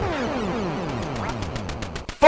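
Several rapid electronic duck quacks from an NES light-gun game ring out clearly, followed by a sharp burst at the end.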